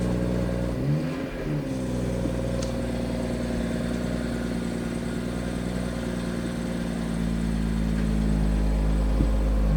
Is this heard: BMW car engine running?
yes